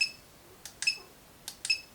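Beeping from the transmitter of a budget AliExpress crawler RC car: two pairs of short, high electronic beeps, quiet and close against a near-silent background.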